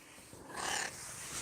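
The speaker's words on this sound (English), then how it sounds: "What kind of weird meowing was that" A house cat gives a single odd, drawn-out meow-like call, fairly close and clear against a quiet room, lasting under a second.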